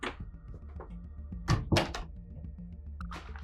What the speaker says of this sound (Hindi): अरे दरवाजा तो बंद कर।